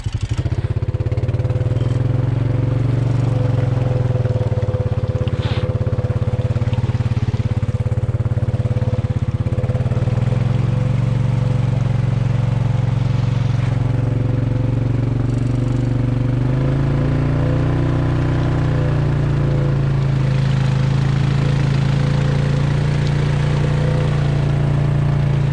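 A 2020 Honda Rubicon 520 ATV on 32-inch tires drives through deep water in a waterlogged bog, its engine a steady loud close drone that shifts pitch with the throttle, under continuous churning wash and splashing.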